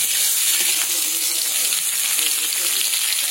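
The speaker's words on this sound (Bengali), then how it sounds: "সব মশলাগুলো ভাজা ভাজা হয়ে গেছে। এবার আমি দিয়ে দিলাম আমলকি।" Amla gooseberries fry with already-toasted spices in a pan, giving a steady, dense sizzling hiss that runs loud and unbroken throughout.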